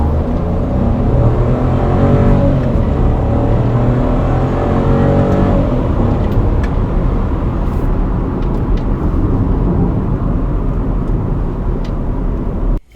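A loud, steady engine roar builds as a three-cylinder SUV accelerates, a throaty rumble sustained throughout with no voices.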